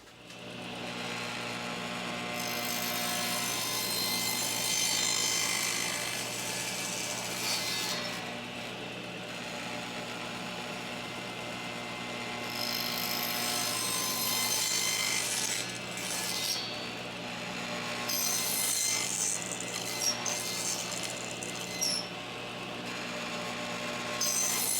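Steady, close hand sawing of wood for a garden obelisk, with a clamp holding the workpiece. The rasping runs continuously and loud under a constant mains hum, with brief pauses and shifts in the stroke.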